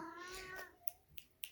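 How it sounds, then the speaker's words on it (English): An 18-year-old pet cat meows and coos close by, a drawn-out wavering call followed by a few short, sharp chirps. "Sorry, that's my cat Charcoal."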